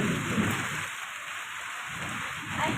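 Rain falls steadily with a soft low thunder rumble swelling at the start and again near the end, a dense continuous hiss throughout and no voices.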